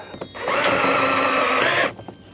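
A power drill drives screws into the front lip bumper of a Nissan 370Z, one steady loud whir of about a second and a half, with faint clicks before and after.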